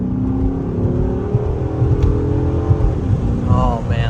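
A Chrysler 300C SRT8 engine hums and rises in pitch as it revs, loud and close, with someone speaking briefly near the end.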